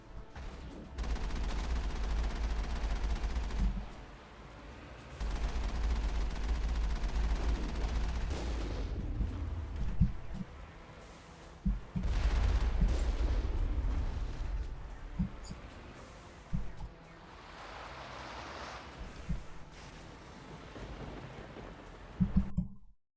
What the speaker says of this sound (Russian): Что-то я не понимаю, где кто стреляет.